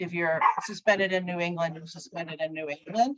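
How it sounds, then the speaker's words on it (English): A dog barks and yips during a captains meeting for an adult 65-and-over section championship, its short bursts partly buried under continuous close talking. "Sorry about my dog, you guys."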